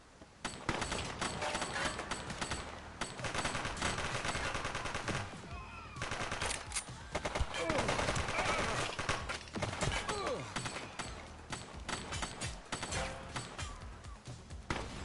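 Gunfire in The Precinct, a police action game: dense, continuous bursts of shots and impacts run through nearly the whole stretch, loud and busy, with brief dips around the sixth and tenth seconds.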